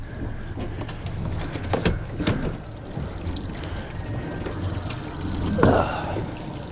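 Water poured out for a dog on a fishing trip, a faint trickle and splash under outdoor ambience, with a brief louder gush near the end; no talking.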